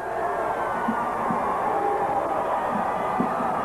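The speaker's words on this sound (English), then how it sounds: "Trying to get the crowd revved up a little bit." A crowd at a women's college basketball game against Southern Illinois keeps up a steady roar and murmur in an indoor arena, with faint cheering rising now and then.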